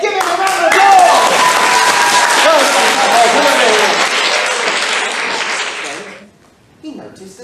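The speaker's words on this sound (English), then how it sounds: "Give him a round of applause." Children give a round of applause during an interactive storytelling session, with a loud sustained burst of clapping and cheering that fades out, then a brief sound at the end.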